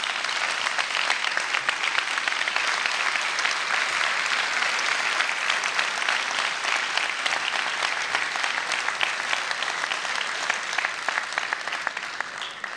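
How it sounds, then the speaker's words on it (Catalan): An audience at a public event for the right to decide in Baix Llobregat applauds, a dense, sustained round of clapping that holds steady and begins to fade near the end. "jo volia demanar un aplaudiment molt especial per vostès"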